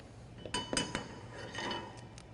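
A single egg cracked one-handed against a bowl edge while making batter in a kitchen, giving a few quick, close clinks and taps with no talk.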